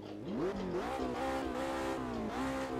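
McLaren 720S engine in the Automobilista 2 racing game, revving hard with rising and falling pitch sweeps as it accelerates through gears, loud and continuous with no talk.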